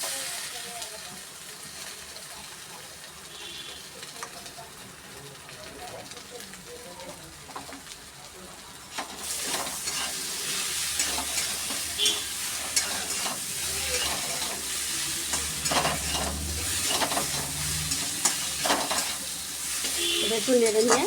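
Soybean chunks go into hot oil in a pan for soybean chops, and the steady sizzle jumps louder about halfway through as they hit the pan. Scraping stirs and clatter sound close over the frying, with no talk.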